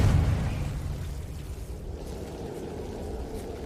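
A Confringo spell explosion in Hogwarts Legacy bursts loudly at the start, then rumbles and fades into a long, low, steady roar.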